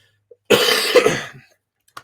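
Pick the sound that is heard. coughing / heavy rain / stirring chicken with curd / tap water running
coughing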